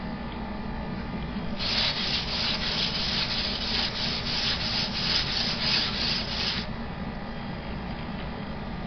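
A steel scraper blade being flattened on a sharpening stone for a bevel skiving knife: steady back-and-forth grinding strokes, close and rhythmic, about a dozen passes in a row, then the scraping stops.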